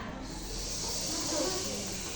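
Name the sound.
children imitating a snake's hiss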